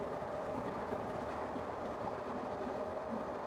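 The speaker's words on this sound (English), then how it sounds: "Let me just wait for this train." A train rumbles steadily past, a continuous broadband roar of rail noise that holds an even level throughout, with no voices.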